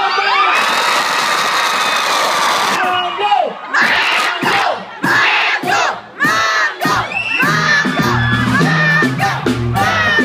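A loud crowd shouts and cheers at a concert, the roar continuous and dense, with whoops and yells rising over live banda brass and drums playing underneath.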